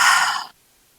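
One deep, breathy exhale during a beginner yoga flow, close and clear, lasting about half a second and then falling into silence.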